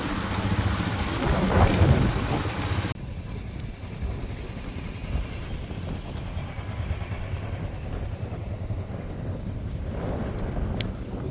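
A loud crack and rumble of thunder, then steady heavy rain pouring down and drumming on surfaces, with faint distant thunder later.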